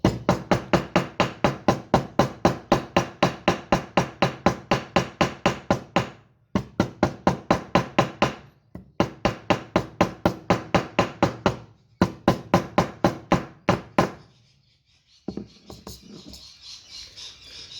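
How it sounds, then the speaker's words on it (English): Rapid, steady metallic tapping from a small hammer flattening the edges of an arrowhead, dozens of sharp close strikes in runs with brief pauses, then quieter scraping at the end. "what I would tend to do at this stage is to hammer it a little bit flatter on the edges"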